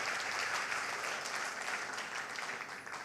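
A crowd applauds enthusiastically, a steady and dense wash of clapping that holds at a moderate level from start to finish, with no speech over it.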